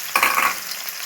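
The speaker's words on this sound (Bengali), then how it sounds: "পেঁয়াজ কুচিগুলো দিয়ে দেবো।" Chopped onions drop into hot oil with bay leaf in a pan, giving a sudden burst of sizzling that fades into a steady, quieter hiss.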